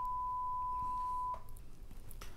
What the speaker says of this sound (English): the diode check even includes a beep